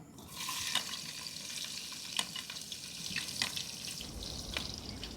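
Four medium chopped onions dropped into hot oil with cumin, frying with a steady moderate sizzle and a few sharp crackles and stirring clinks, fairly close, no voices.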